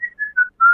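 A person whistles four short tonal notes alone, each held briefly with small gaps, the pitch stepping slightly down across the phrase and the last note strongest.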